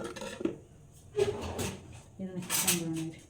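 A metal plate is picked up and handled in a home kitchen while evening snacks are made, giving a few clinks and scrapes under a voice talking.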